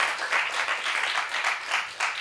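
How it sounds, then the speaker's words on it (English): Audience applause at a film composer and sound designer's masterclass at Sunway University, a steady wash of many hands clapping at moderate volume for a couple of seconds with gentle swells and no talk. "Mr. Luka, let's give him a applause,"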